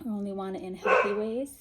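A dog gives a short, sharp bark in the middle of someone speaking in a home setting; the bark is brief and sits under and between her words.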